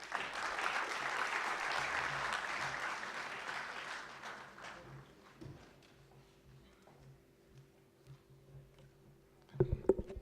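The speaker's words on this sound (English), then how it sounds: "let us have a huge round of applause for Mr. Sandeep Marva." An audience at an anniversary conference claps for a speaker, a dense round of applause for about four seconds that fades into quiet room noise with a few scattered claps and clicks.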